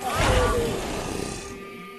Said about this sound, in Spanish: Sonaba como si alguien estuviera respirando bajo el agua